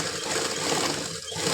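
A sewing machine runs steadily while stitching the pocket of a green palazzo pant, a continuous close mechanical whir with no break and no talk.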